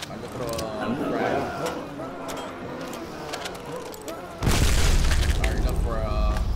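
A frag grenade blows up in Call of Duty: World at War Nazi Zombies, a sudden loud broadband boom that swells midway and roars on to the end, preceded by dense gunfire and game noise.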